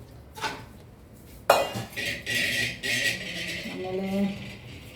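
Steel cooking pots and vessels knock and clank together at close range, with a sharp clang followed by a run of rattling metal clinks and ringing scrapes.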